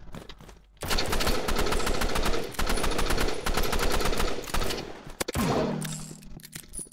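Rapid automatic gunfire from the Roblox game Rivals rattles in long sustained bursts, loud and dense, with a brief pause and a final burst, like game weapon sounds.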